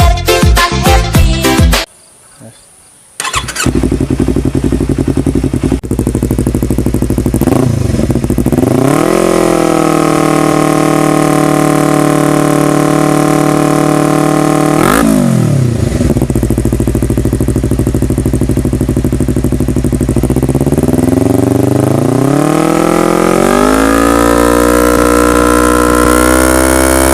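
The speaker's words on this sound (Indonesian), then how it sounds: "video review knalpot Ernene Carbon seri Austin hari ini ya guys" Yamaha R25 sport bike fitted with an Austin carbon series exhaust, revving loudly and repeatedly: sharp rising and falling throttle blips, a brief cutout near the start, then sustained high revs close to the microphone with no talking.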